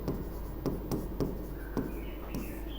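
Pen strokes of handwriting as verse text is written out, a series of scratchy taps in an uneven rhythm, close and fairly clear, with no one speaking.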